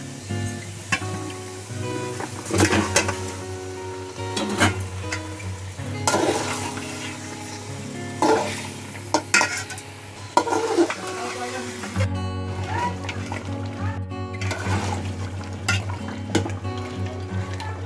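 Mutton curry sizzles and fries in a pan while a spoon scrapes and stirs in repeated strokes, with occasional clinks of metal.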